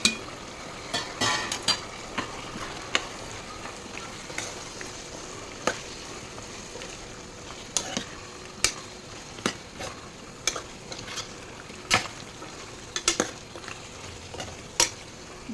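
Mutton frying in oil with spices in a pan for a simple curry, a steady soft sizzle with scattered sharp scrapes and clinks of a stirring utensil, no talk.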